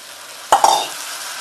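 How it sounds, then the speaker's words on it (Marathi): Green peas tipped into a hot sizzling pan for Maharashtrian vatana rassa bhaji, a quick double clatter followed by loud frying hiss and stirring that settles into steady sizzle. "आता आपण ह्याच्यामध्ये वाटाणे टाकूया"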